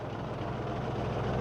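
A John Deere tractor engine idles at low volume, a steady, muffled low rumble that continues without change.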